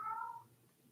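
A cat meows once near the start, a clear rising tonal call lasting under half a second, faint in the background of a quiet indoor room with no talk.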